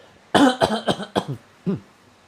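Someone coughs in a rapid string of five harsh bursts, pauses, then gives one more cough, close and clear.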